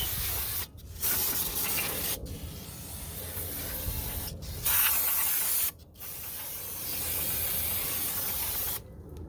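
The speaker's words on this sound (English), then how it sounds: "Now spray the back end of the rotors." Loud aerosol brake cleaner spray hissing in long continuous bursts onto the back of a brake rotor, broken by brief pauses, with five or so distinct sprays close to the mic, during 2004 Acura TL front brake work.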